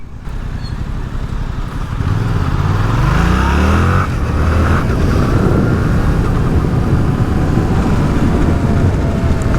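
A Yamaha MT07 A2 motorcycle, 2022 model, pulling away from a stop in town, its engine note rising through the revs loud and close with wind rush, then settling into a steady drone.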